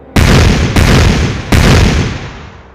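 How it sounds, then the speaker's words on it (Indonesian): Fists pound a rock in three loud, heavy booming impacts, each with a long rumbling decay, close and alone. "meskipun suara dentuman keras menggema, batu itu tetap tidak bergerak"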